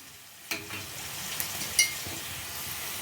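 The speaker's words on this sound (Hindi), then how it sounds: "बीच बीच में चलाते हुए भून लीजिए।" Capsicum stir-fried in a pan for beans Manchurian, a soft sizzle broken by a few sharp scrapes and clinks of a spoon against the pan, no voices.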